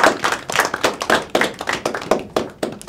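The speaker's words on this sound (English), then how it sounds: "give yourself a round of applause" A round of applause from participants at an Indigenous blanket exercise event, heard as brisk, uneven clapping from a modest group, fairly close and steady throughout.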